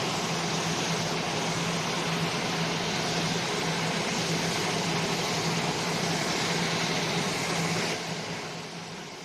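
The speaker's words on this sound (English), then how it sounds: "You hear how loud the engines are" Constant loud roar of aircraft engines at Kennedy Space Center as a crew arrives, a dense droning wash with a steady low hum that holds unchanged before easing slightly at the end, no voices.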